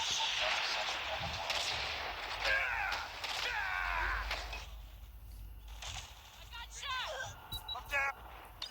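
Gunfire and explosions from the COD Mobile video game play in rapid, dense bursts, with a player talking over the busy battle noise throughout.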